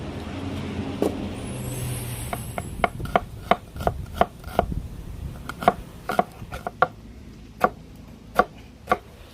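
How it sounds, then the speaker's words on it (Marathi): A knife chopping tomato on a board in steady, sharp strokes that start after a few seconds, over a low outdoor rumble of passing traffic. "टोमॅटो चिरून झालेला आहे."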